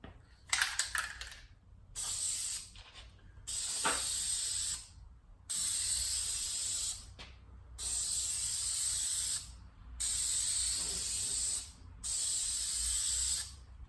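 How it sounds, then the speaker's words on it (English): A paint sprayer lays white paint onto a Dodge Challenger in six steady, loud hissing bursts of about one to two seconds each, separated by short pauses, preceded by a few clicks and rattles at the start. "I will adjust my sprayer to my liking"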